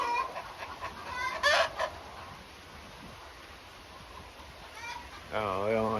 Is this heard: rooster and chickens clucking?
yes